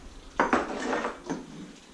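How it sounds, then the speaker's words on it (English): Country ham is chopped into small bits for a dish of grits, eggs and cheese, a few sharp knife-on-board knocks and clatters close by, with kitchen rattling in between and no talk. "It's ham chopping time."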